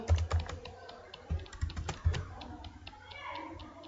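Keys tapped on a computer keyboard during a practical computer lesson, a quick irregular run of close, crisp clicks with a few louder strokes, then quieter scattered taps.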